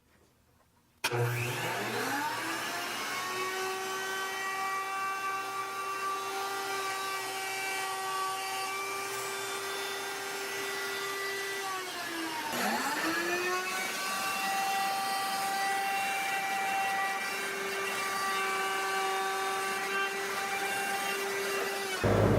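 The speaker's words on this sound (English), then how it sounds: "I'll raise it to the top, I'll plunge in, and then go down, come back up, and plunge out, and that way I'll have that perfect little keyhole." A PantoRouter spins up and plunges into wood to cut keyholes, a loud high whine with steady motor tones that dip briefly mid-cut as the bit re-enters, then resume.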